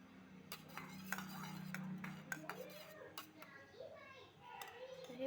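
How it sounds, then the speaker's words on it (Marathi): A spoon stirring chutney in a pan, soft irregular metallic clinks and scrapes heard close and quiet beneath a voice and faint background chatter. "तर ह्यात मी हलवत आहे."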